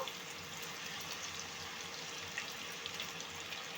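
Atta dough pieces fry in hot oil over high heat, giving a steady, dense hiss and sizzle with faint crackles, close and continuous throughout with no voices.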